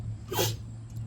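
A single short sneeze, a sharp burst of breath against a low, steady background hum.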